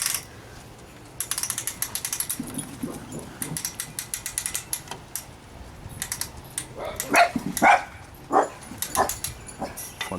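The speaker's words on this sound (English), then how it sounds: "I'm gonna go ahead and wind it up so I can show you how well this thing is" The crank of a repaired patio umbrella arm is wound, giving rapid ratcheting clicks in bursts. A dog barks close by several times near the end.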